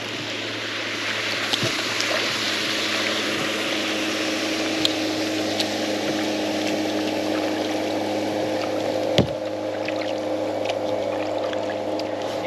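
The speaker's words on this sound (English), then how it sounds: "Just a boat going past." A motorboat passes on the water, heard from a kayak: a steady engine drone with a constant hum and wash noise running throughout, fairly close and loud, with a few sharp knocks from the paddle or hull and no talk.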